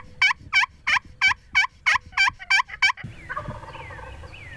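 Wild turkey gobbling in a fast run of about nine loud, even bursts close by, then giving way to softer chirping and rustling with faint bird calls.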